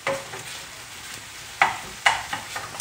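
Cabbage and mince fry in a pan with a soft, even sizzle. A few sharp scrapes and knocks from the stirring spoon stand out near the end, close and without talk.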